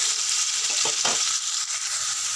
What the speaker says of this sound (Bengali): আলুটা একটু ভালো করে ভাজা হয়ে যাক